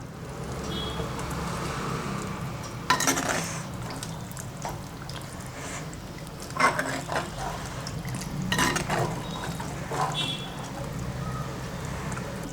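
A spoon stirring a Kerala-style chickpea curry with sautéed onions and water in a pan, giving repeated wet scrapes and a few sharper knocks against the metal over steady low kitchen noise.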